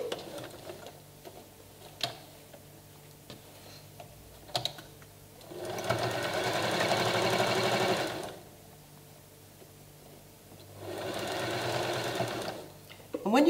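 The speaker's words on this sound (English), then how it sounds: "And sew down to your pin." A sewing machine stitches down the side of a slanted strip bag in two sustained runs of steady, loud whirring, separated by quieter pauses with faint handling clicks and some talk.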